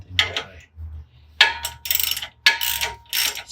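Bolts on the lift extension hardware of a Jeep Gladiator being tightened for an Evo Mfg 2.5 inch lift, with several bursts of ratcheting clicks separated by short pauses, close and fairly loud.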